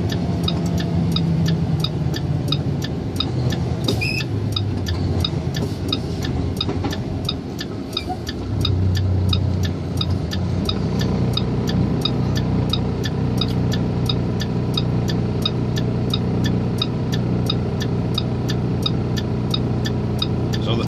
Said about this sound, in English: So the truck I'm driving is a International. It's an automatic truck, so I don't have to do any more shifting.